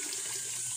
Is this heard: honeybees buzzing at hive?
no